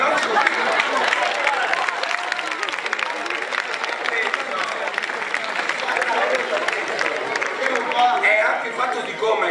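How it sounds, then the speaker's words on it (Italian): A cabaret audience claps steadily in a dense burst of applause, with voices and crowd chatter mixed in. "Facciamo un applauso al nostro."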